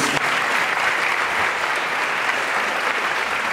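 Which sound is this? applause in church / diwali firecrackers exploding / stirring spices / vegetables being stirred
applause in church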